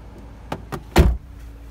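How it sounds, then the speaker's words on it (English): A MINI One Clubman's rear club door opens with a couple of light latch clicks followed by a firmer mechanical clunk, close by and brief. "there's the club door with the rear seat access"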